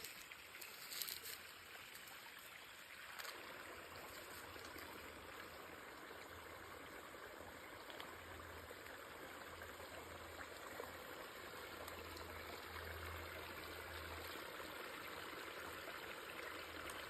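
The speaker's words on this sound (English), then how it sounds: "Nice trickle of water coming from the underground spring right here." An underground spring trickles into Helotes Creek, a steady, faint, continuous flow of water outdoors with no talk over it.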